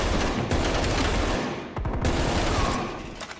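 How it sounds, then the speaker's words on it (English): A rapid-firing gun in a video game lets off fast, dense bursts of shots in a loud, sustained volley, with a brief dip in the middle before the firing resumes. "This gun fires really quickly. Like, surprisingly fast."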